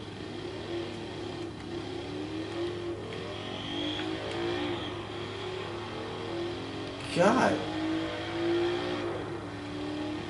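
A small air-cooled, rear-mounted two-cylinder Fiat engine revs in Forza Horizon 2. Its buzzy note rises and falls in repeated sweeps under steady game background noise while someone talks over it.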